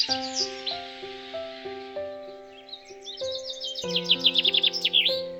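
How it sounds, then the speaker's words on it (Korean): Several wild birds sing and chirp together in spring, with bright trills and quick repeated notes layered over sustained tonal background notes. "다양한 새들이 저마다의 노래 실력을 뽐냅니다."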